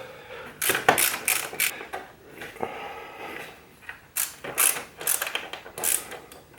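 Loosening the fork clamp on an Africa Twin motorcycle during a KYB fork swap: close bursts of metallic ratcheting clicks in two separate runs with a pause between, no voices.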